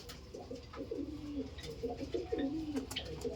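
Madrasi pigeons coo in soft, repeated throaty phrases, close by and fairly quiet, with faint chirps and rustling in the background.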